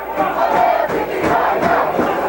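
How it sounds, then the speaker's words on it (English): Fans at a men's college soccer match between Wheaton and North Park roar in a loud, continuous crowd swell with rising shouts, picked up close on a crowd mic. "you can hear the intensity of the fans over the crowd mic that we have here"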